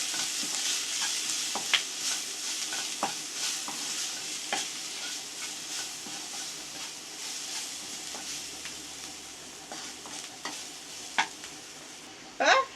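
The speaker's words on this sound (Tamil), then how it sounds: "இப்போ இது எல்லாத்தையும் சேர்த்து நல்லா கிளறி விட்டுக்குங்க." Potato egg fry with spices is stirred in a frying pan, with a steady sizzle under repeated scraping strokes of a spoon against the pan, close and fairly loud throughout, with no talking.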